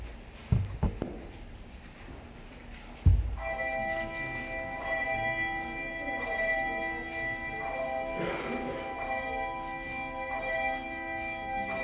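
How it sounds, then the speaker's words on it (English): Church bells begin pealing after a few soft thumps and bumps, sustained ringing tones layering over one another and sounding moderately distant and steady through the rest of the clip. "sing that after the pealing of the bells"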